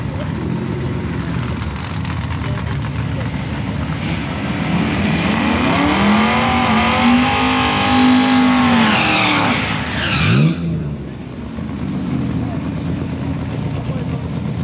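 A Ford F100 pickup running nitrous roars down the strip in a grudge drag race, its loud engine climbing and sweeping in pitch before cutting off abruptly, with voices in the background.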